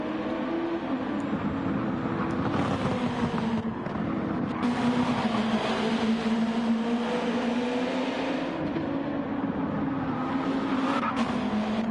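Race cars in the Gran Turismo 7 video game lap the Autopolis International Racing Circuit, a steady, loud engine drone with shifting pitch running throughout, with no talk over it.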